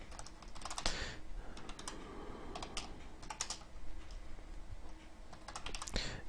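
Fingers type on a computer keyboard while entering C++ Qt code, a quick, irregular patter of close keystrokes in bursts with short pauses.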